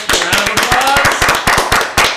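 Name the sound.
round of applause in studio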